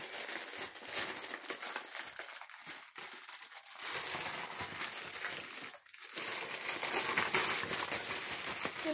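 Plastic packaging crinkles close by during the unboxing of a special edition classic Wii controller, with continuous rustling and crackling plus a few sharper crunches and tearing sounds.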